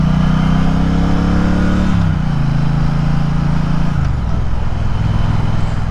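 A Triumph Bonneville Speedmaster motorcycle's engine and exhaust, a loud, deep steady rumble close by whose pitch steps down twice as the engine settles and shifts, with no talk.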